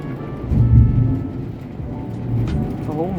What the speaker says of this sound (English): Oh my house just shaked for this thunderstorm.